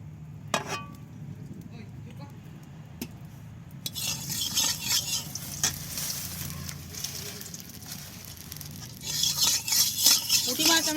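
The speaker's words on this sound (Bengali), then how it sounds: "একটু অল্প তেলেই ভাজবো অল্প তেলে ভাজলে তাড়াতাড়ি গাটা চোঙা চোঙা হয়ে আসবে" Puti fish (Bengali-style small river fish) frying in a little hot oil in a kadai, with a steady sizzle and occasional utensil clinks, growing louder and busier toward the end.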